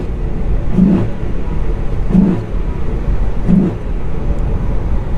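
A Dodge Ram SRT-10 pickup's engine idles with a low grumble, then gives three deep, evenly spaced revs, each swelling and falling back, close and loud.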